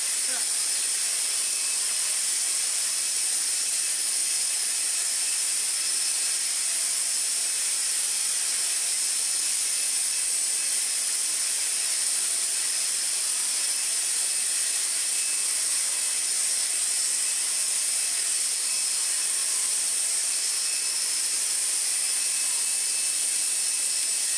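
Vax Air Cordless vacuum cleaner running steadily, picking up dust after a repair: a continuous bright airy hiss with a faint high whine, constant and unbroken throughout, no talking.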